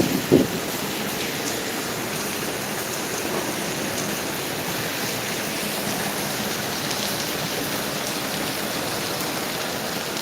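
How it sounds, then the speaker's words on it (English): Steady rain falls outdoors on a street, a constant even hiss that fills the whole stretch, with a brief soft knock near the start and no talk. "guiding us into the rain with no umbrella"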